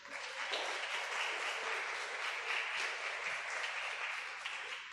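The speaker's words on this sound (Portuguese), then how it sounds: "As palmas louvam o Senhor." Congregation clapping in praise at a church women's gathering, a steady, fairly distant patter of many hands that continues evenly without voices.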